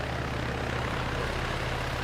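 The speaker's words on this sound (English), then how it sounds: "See how the ground met your helicopter rather than you meeting the ground?" A helicopter in the Arma 3 video game comes in to land, its engine and rotor giving a loud, steady, dense drone that fills the short moment with no talk.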